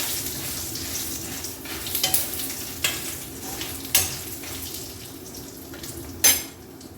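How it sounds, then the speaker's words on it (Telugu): Dried red chillies fry in oil in a kadai with a steady broadband sizzle, and a few sharper stirring scrapes and clinks break through at intervals; there is no talking. "ఇప్పుడు మిరపకాయలు వేయించేసుకుందాం"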